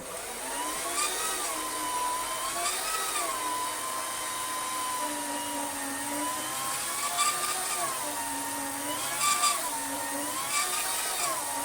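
A vintage Hoover carpet shampooer scrubbing carpet with cleaning solution, a steady high motor whine with slowly wavering pitch, loud and continuous throughout.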